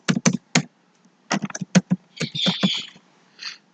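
A password being typed on a computer keyboard while saving a Word document, with short bursts of close, crisp key taps in uneven clusters and a brief pause partway through.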